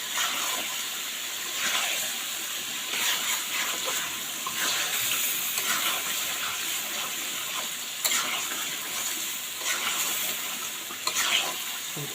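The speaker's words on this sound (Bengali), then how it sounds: "এখন আমি ঝোলের জন্য একটু পানি দিয়ে দিব।" Chicken for a thin Bengali chicken curry, already fried down in oil, gets water poured in for gravy; a steady, close sizzle fills the pan with scraping stir strokes and a few sharper splashes throughout.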